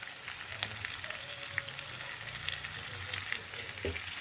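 Chicken fries in a pan for chicken fry dosa, giving a soft, continuous sizzle with occasional light stirring taps, close but quiet.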